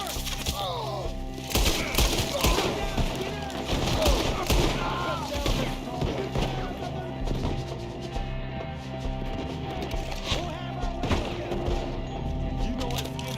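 Gunfire in a Red Dead Redemption 2 shootout against Skinner gang members, some of them up in a tree, with repeated sharp shots and volleys throughout, mixed with shouting voices and other game sounds.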